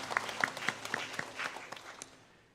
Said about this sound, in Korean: 우리 주님께 영광의 박수 올리겠습니다.